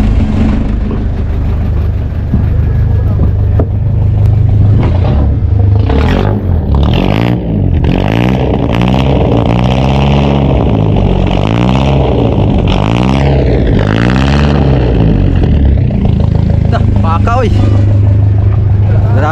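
An outboard boat engine revs and clatters loudly for a long stretch, rising and falling in pitch like an old jeepney, with wind noise throughout.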